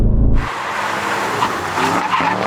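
An Aston Martin V12 braking hard in a brake test: a loud engine roar cuts off into a sustained, harsh tyre squeal and skid lasting about two seconds, close and loud.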